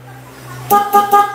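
A stock car horn honks three short times in quick succession, fairly loud and close, after a steady low hum.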